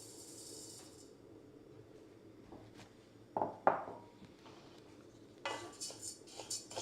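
Dry bulgur wheat pours into a heated pan for roasting, giving a few faint clinks and a brief sandy hiss over a low background hum, followed by light scraping and stirring.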